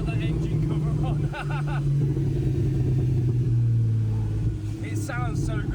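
Loud engine of a rebuilt Porsche running with its engine cover off, a steady low drone and rumble filling the cabin throughout, with a voice speaking briefly over it.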